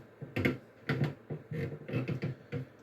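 Typing on a computer keyboard gives irregular clusters of close, crisp key clicks with brief pauses between the bursts.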